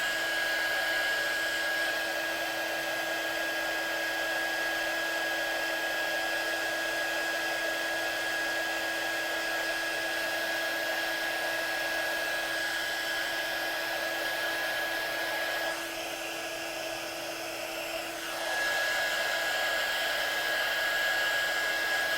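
A hair dryer blows steadily on a watercolour painting during a stamping and watercolour craft session, a continuous close whirring roar with a brief dip in pitch near the end, no voices.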